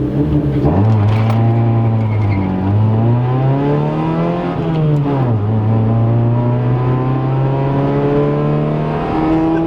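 A Honda Civic EK fitted with a new turbo kit accelerates hard through the gears, its loud engine note climbing in pitch, dropping at each shift and climbing again, heard from inside the car with no talk.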